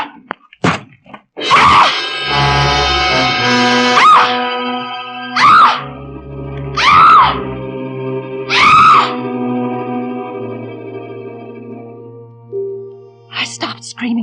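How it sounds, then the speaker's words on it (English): A woman screams in a radio suspense drama, a series of loud piercing shrieks separated by short pauses, backed by dramatic effects and thuds, ending in quieter faint noises. "I stopped screaming finally"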